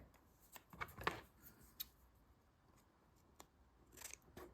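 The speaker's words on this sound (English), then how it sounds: "I'm going to cut it with my scissors and make it perfectly square" Quiet, close snips and crunches of scissors cutting paper for tiny paperback books, a few irregular cuts with short pauses between them.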